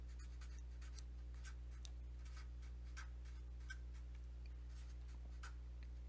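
A handwritten note, pen or marker strokes scratching in short bursts at an even pace, faint and close over a steady low electrical hum, with no one speaking.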